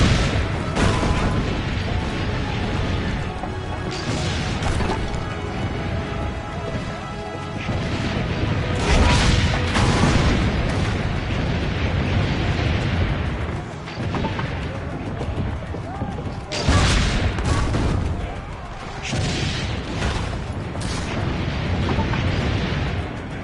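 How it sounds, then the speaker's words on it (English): Cannons fire and crash in Assassin's Creed Brotherhood as heavy booms and impacts, spread through a busy, loud battle din with several stronger bursts, while someone talks over the action. "Oh, there's more cannons over here."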